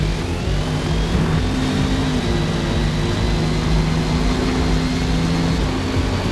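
Race cars, including a Toyota and a Lamborghini, roar around a track in Forza Motorsport, with a loud, continuous engine drone whose pitch rises and falls as the cars accelerate and jostle for position.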